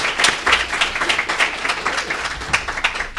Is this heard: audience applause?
yes